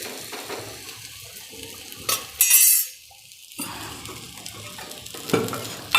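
Spicy veg toast made with bread flips over in a sizzling pan, with a scrape and clatter of a utensil, a brief hush, then steady frying sizzle and a few more clinks.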